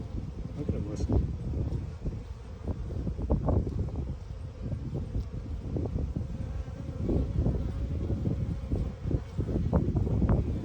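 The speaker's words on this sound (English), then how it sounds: "The bees are listening to her." Bees buzz around freshly opened flowers near a small colony, a soft, close, wavering hum that rises and falls under gusts of wind and rustling.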